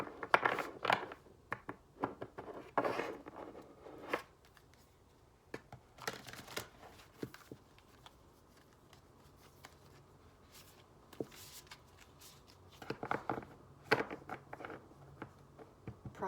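A Crystal Healing oracle card deck being shuffled in hand: bursts of riffling, flicking card noise come close and clear, separated by quiet pauses.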